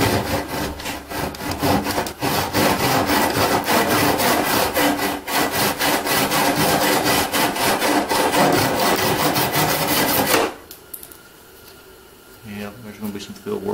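A handsaw cuts through wood for a fishing pole rack, with rapid rhythmic back-and-forth strokes that are loud and close for about ten seconds, then stop abruptly, leaving quieter handling sounds.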